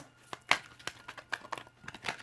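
Tarot cards being shuffled by hand at close range, a run of crisp papery riffles and flicks with short bursts spread irregularly across the moment.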